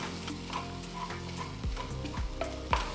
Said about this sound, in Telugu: ఇప్పుడు పప్పు గుత్తితో ఈ గోంగూర మిక్స్చర్ని బాగా మ్యాష్ చేసుకోవాలి.